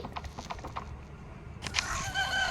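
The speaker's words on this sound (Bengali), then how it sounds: "একটা মুরগির মতো সাউন্ড হলো" A chicken-like clucking call from the video game Poppy Playtime Chapter 3, breaking out in the second half after quieter mechanical ticks, fairly close and moderately loud.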